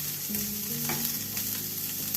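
Kohlrabi with other vegetables and a little tomato sautéing in a pan, a steady close sizzle and frying crackle with faint stirring, no voices.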